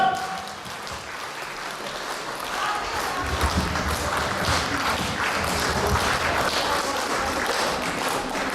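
Audience applause follows a duet performance, a dense crowd clapping that swells after a few seconds and holds steady and loud to the end.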